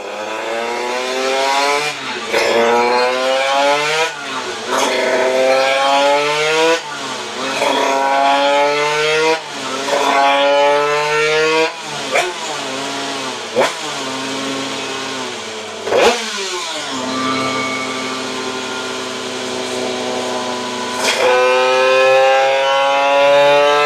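A small two-stroke scooter engine fitted with a KRM 100/115cc exhaust revs loudly again and again, its pitch sweeping up and dropping back in repeated high-revving bursts, near and alone.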